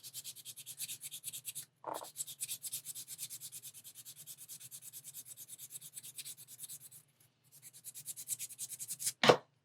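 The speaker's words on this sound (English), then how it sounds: "So I'm also going to try this sanding stick here. This is a 180 right here" A 180 grit sanding stick rubs over a 1/4 scale Deadpool figure in quick, even back-and-forth strokes, close and dry, with two short pauses and a louder scrape near the end.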